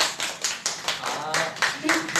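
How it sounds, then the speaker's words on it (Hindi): An audience claps in a loose, uneven rhythm of about eight distinct hand claps, close and fairly loud, with no voices over them. "ताली तो मारिए"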